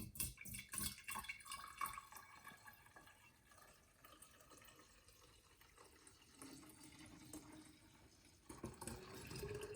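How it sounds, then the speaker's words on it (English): Liquid poured from a container into a carafe, a steady close trickle and splash that runs for a few seconds. It rises in pitch as the vessel fills, and a few clinks and handling noises follow. "pour it into our carafe"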